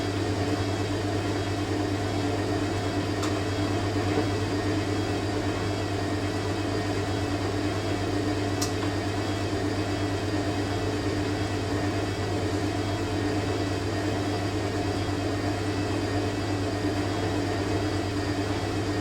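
A vintage 1980s Hoover A3060 Electronic 1100 washing machine rinses a load of bedding, giving a steady, unbroken mechanical hum with a low drone that runs alone at an even level.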